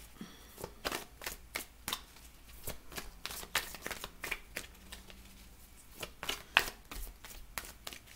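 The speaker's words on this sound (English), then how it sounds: "And just shuffle it." Tarot cards shuffled by hand in a run of crisp, repeated riffling bursts, close and fairly loud, with brief pauses between shuffles and no talking.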